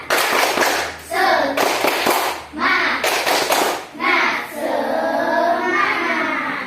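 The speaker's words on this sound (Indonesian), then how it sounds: "Kalian tepuk semangat. 1, 2, 3. Tepuk semangat." A class of children performs a rhythmic spirit clap in a classroom lesson, bursts of loud group clapping in a steady pattern alternating with the children's chanting voices, close and lively.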